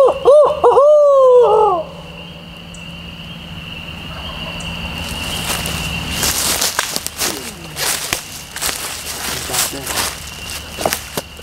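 A person imitates an owl's hoot with a few wavering hoots up close during a turkey hunt in Alabama, then quiet outdoor ambience with insects and crunching footsteps.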